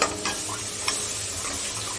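Agri spice masala paste sizzles in a pan while a spatula scrapes and stirs it in short, regular strokes.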